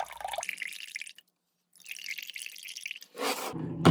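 Excess water drips from a soaked sponge for a wet palette, with quiet intermittent splashes and trickles close by that pause briefly and then return, getting louder toward the end.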